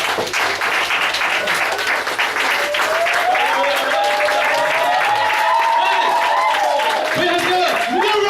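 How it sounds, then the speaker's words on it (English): A comedy club audience gives light golf-clap applause, a steady patter of scattered claps filling the room while whoops and a rising voice-like tone ride over it. "should we start with another little golf clap?"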